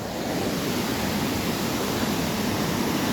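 Steady rain pours down at Dupcheshwar Mahadev temple, a dense, even hiss with no breaks, close and constant throughout.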